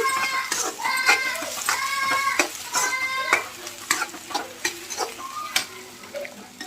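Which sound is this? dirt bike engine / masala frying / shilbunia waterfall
masala frying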